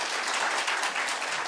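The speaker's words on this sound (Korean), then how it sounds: "사모님 손 한번 들어주시면 박수로 환영할게요" Church congregation clapping to welcome the pastor's wife, a soft, continuous patter of many hands heard at a modest distance with no speech.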